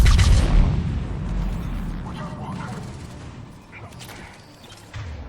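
Grenade explosions in Mass Effect 3 on Insanity difficulty: a loud blast up front is followed by rolling booms and gunfire-like crackle that slowly fades. Game noise fills the scene, and a later thump ends it.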